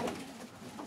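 Pigeons coo softly inside a loft housing a breed of crested pigeons, with low murmuring calls running continuously and close by, no voices.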